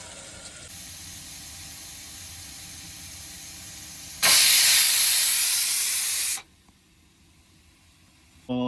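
A pressure cooker of carrots and peas lets out one loud, close whistle of rushing steam in a truck cab kitchen, a sharp hissing blast lasting about two seconds over a low background hum before cutting off.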